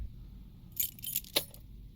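Metal keys jangle in a few quick clinking bursts inside the Detective Club 2 puzzle game, loud and close over a quiet background, with no voices.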